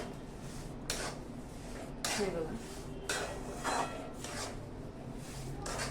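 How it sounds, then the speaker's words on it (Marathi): Semolina roasts in ghee in a pan for a prasad sheera, heard as steady scraping and stirring strokes of a spoon against the pan, fairly faint, with a little background noise. "हा जो रवा आहे ना हा याच्यामध्ये मस्तपैकी भाजून घ्यायचा आहे"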